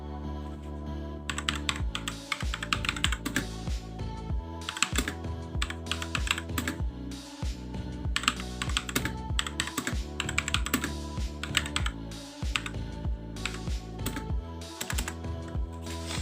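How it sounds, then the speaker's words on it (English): Typing on a Fantech Maxpower MK853 mechanical keyboard produces steady, close clicking keystrokes in quick irregular bursts, with short pauses and no talking. "Okay, normal typing."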